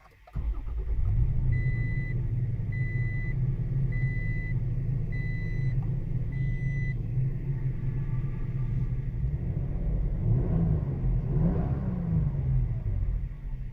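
A 2019 Toyota Tacoma TRD with a 3.5 liter V6 starts up and settles into a steady low idle, then revs a few times near the end. A series of regular chime beeps sounds early on, and no one speaks.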